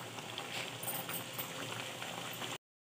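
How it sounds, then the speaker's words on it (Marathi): Kachoris deep-frying in oil over a medium gas flame produce a continuous, even bubbling sizzle, close and fairly soft, which cuts off abruptly. "कुरकुरीत होण्यासाठी एकदम मध्यम गॅसवर तळणार"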